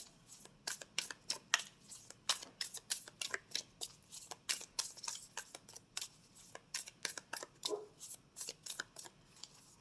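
Moonology oracle cards are handled and shuffled in a quick, uneven run of crisp slaps and riffles, close and fairly quiet, with no talking.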